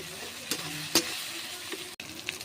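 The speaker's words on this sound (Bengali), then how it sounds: "পেঁয়াজগুলো একটু লাল লাল করে ভেজে নেবো।" Onions fry in a pan with bay leaf and garlic paste, giving a quiet, soft sizzle broken by a few sharp scraping stirs. There is no talking.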